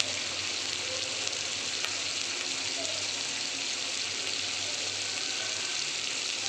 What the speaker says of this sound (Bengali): কড়াইতে আমি গোটা গরম মশলা দিয়ে আদা, রসুন আর পেঁয়াজ বাটার পেস্ট আর সঙ্গে টমেটো কুচিগুলোকে দিয়ে দিয়েছি